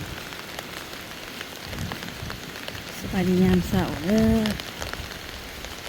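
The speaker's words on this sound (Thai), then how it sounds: "ฝนตกดีอีหลีพี่น้องเอ้ย โคตรตกอยู่บนคืน" Heavy rain pours down in a steady, dense hiss throughout, while someone talks over it in the middle.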